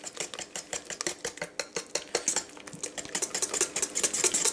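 A whisk beats the dry ingredients for hamburger bun dough, salt included, in a bowl with fast, rhythmic clinking strokes, close and steady, and no talk over it.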